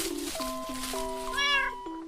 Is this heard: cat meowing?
yes